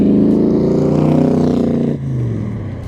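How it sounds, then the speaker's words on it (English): Ford engine of a 1965 Backdraft Cobra RT4 replica with headers and side pipes, a loud, deep, close throaty rumble that holds steady, then drops abruptly as the throttle lifts and settles into a lower burble. "And it's, well, it's loud. Between the side pipes, headers."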